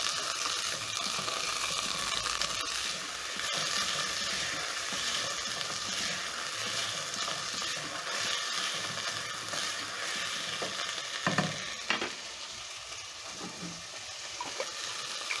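Raw pigeon peas (mbaazi) being stirred into a sizzling curry base with browning onions: a steady, dense frying hiss runs throughout, with occasional brief scraping clatters of the spoon in the pot.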